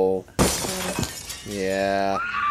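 A pane of glass shatters abruptly in a scene from the horror film Scream 3, a loud bright crash that rings out over sustained tonal music before and after.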